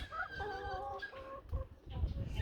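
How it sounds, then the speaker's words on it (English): Several chickens cluck and murmur close by inside a chicken house, with overlapping calls and a steady low background rumble. "This is the chicken house I'm looking at right now."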